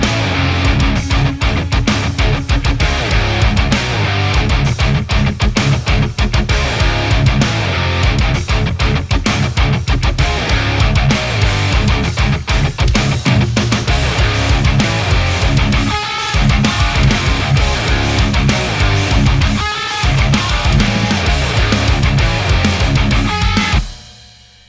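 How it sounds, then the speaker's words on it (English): Distorted, crunchy metal bass guitar tone from a Line 6 Helix, loud and dense throughout, with chugging rhythmic low-end riffs in a full metal mix, a brief drop near sixteen seconds and an abrupt stop at the end. "we're going to take a look at the bass guitar tone in a metal song that I'm working on"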